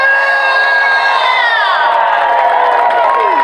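A church crowd at an ADEPR gathering ululates and cheers in praise. Loud, high wavering trills rise and glide together over a bed of crowd noise.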